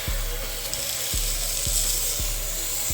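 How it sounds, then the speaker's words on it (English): Birria meat pieces sear in a very hot pan for tacos, a loud, steady crackling sizzle with faint periodic low thumps roughly every half second, no talking over it. "we got our pan like super hot, so these pieces are searing a whole lot better"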